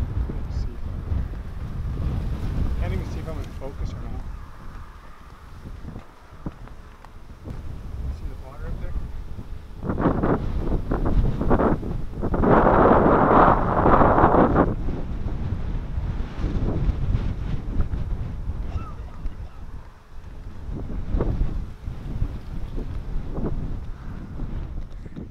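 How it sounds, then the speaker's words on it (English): Strong wind in the South Dakota Badlands buffets the microphone in loud, rumbling gusts, swelling hardest mid-way, while people talk intermittently underneath. "It's because it's so windy right now."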